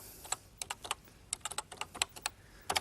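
Typing on a computer keyboard in 1986, close and crisp: irregular bursts of sharp key clicks, some in quick runs and others spaced apart, with no voices.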